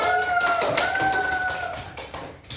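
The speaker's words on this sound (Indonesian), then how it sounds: "Beri tepuk tangan." Students in a fifth-grade classroom clapping for a group after a lesson answer, a brief burst of hand claps over a whistle-like tone and murmuring.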